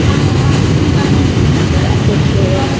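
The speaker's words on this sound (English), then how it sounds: "Another F train getting off at Avenue X," An F subway train at the Avenue X station near Coney Island rumbles loud and close, a steady heavy low roar with a broadband rush throughout.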